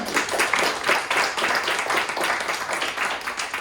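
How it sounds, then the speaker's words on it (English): A crowd applauds at a tech talk event on AI for good, with dense, steady clapping that stays loud and continuous throughout and no speech over it. "A round of applause for Adam, please."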